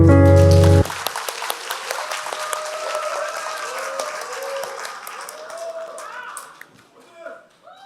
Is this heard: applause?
yes